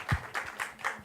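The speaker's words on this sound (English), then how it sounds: "A round of applause for everyone, at least, who venture into this unknown." A few listeners clap at a startup tech talk, four or so distinct, evenly spaced claps, fairly close and modest in volume, with no crowd roar behind them.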